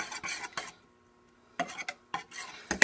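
A utensil scrapes and stirs roux around a pot for lasagna, rhythmic bursts of rasping metal-on-pot strokes broken by a brief pause, close and clear with no speech.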